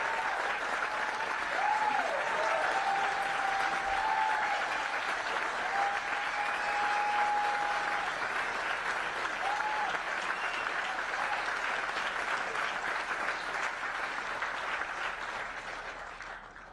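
A large crowd at a campaign rally claps and cheers in sustained, dense applause lasting the whole stretch, with scattered whistles rising above the steady roar.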